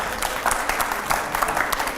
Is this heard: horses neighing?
no